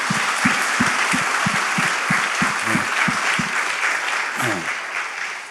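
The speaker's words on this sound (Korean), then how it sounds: "우리 한 박수로 영광 올리겠습니다" A church congregation bursts into applause during a worship service, sustained clapping with a steady rhythmic beat underneath, lasting about five seconds and tapering off at the end.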